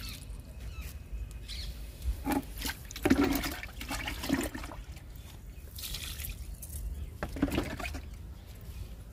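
Liquid fertilizer poured from a container into potted tomato plants, soft intermittent splashing and trickling bursts over faint outdoor background with occasional bird calls.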